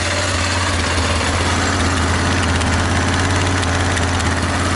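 A fire-damaged 2001 Kawasaki Bayou KLF 300 ATV idles with the choke on one click and slightly sticky valves, its engine close and loud with a continuous, evenly pulsing exhaust thump throughout.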